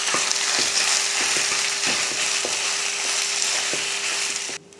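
Cooked rice stirred together with ground sesame powder in a pan, with a steady hissing sizzle broken by regular scraping strokes of a spoon. The sound ends abruptly.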